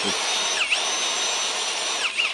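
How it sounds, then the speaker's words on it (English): A Milwaukee impact driver whirs steadily at high pitch, motor spinning with no hammering or clicking due to a fault, briefly dipping in pitch twice. "it's definitely not hammering"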